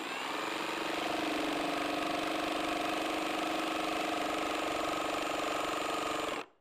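A power tool cuts plastic during a lid kit install, a steady, close, buzzing whine that holds for about six seconds and then cuts off abruptly.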